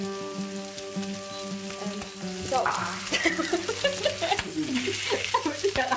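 Pork loin steaks, cooked 50 minutes at 61 degrees in the oven, are seared in a hot oiled pan. Strong crackling sizzle swells as the meat goes in, while a voice speaks briefly alongside.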